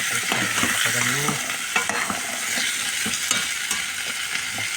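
Papaya, onion and tomato sautéing in a hot pan: a constant sizzle with scraping and stirring knocks from a utensil, close and fairly loud, no talking.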